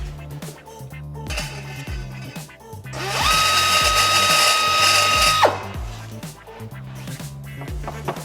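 A machine tool cuts a dish into a piece of stainless steel, a close, steady grinding whine that swells for a couple of seconds over rhythmic mechanical thumping, with no speech.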